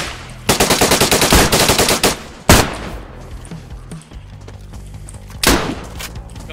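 Loud, close gunfire at a military camp: a long rapid automatic burst, then a heavy single shot, a pause, and another sharp report.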